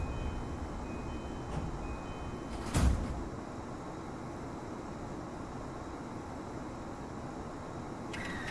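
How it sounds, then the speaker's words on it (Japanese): Train doors on an E233-5000 series Keiyo Line commuter rapid slide shut in a rail simulator game, a short thudding close under a steady low hum, followed by a long quiet hiss and a faint chime near the end. "番線ドアが閉まります。"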